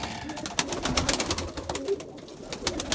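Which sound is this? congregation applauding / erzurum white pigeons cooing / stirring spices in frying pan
erzurum white pigeons cooing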